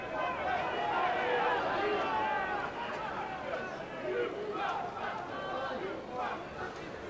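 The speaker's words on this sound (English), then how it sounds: "There's a few shouts from the crowd there, doubting John Bruce's fitness." Rugby league crowd at a Hull KR versus Sheffield Eagles match, a steady babble of voices with scattered shouts rising out of the general hubbub, continuous throughout.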